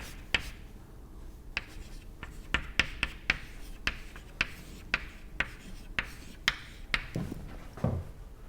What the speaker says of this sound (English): let me write it in index form